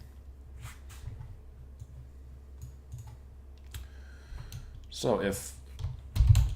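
Typing on a computer keyboard gives soft, scattered key clicks throughout, with a louder flurry near the end, while a voice speaks briefly.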